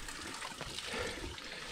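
Water trickles steadily from a roadside drinking-water pipe beside a road near Ohrid, North Macedonia, a soft, continuous splashing with no voices over it.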